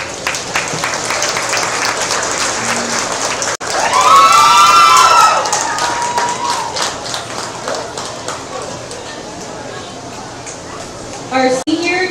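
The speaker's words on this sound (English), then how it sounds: "So let's give them all a round of applause." Audience applause and cheering for senior goat showmanship competitors at a county livestock show, a broad steady wash of clapping with a brief swell of shouts and whistles, voices mixed in.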